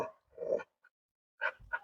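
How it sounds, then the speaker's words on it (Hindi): A pet dog gives a few short, sharp barks and yips in bursts, close by and fairly quiet, with brief silences between them and no voices heard. "जितना मना करूंगा उतना ज्यादा भौंकेगी"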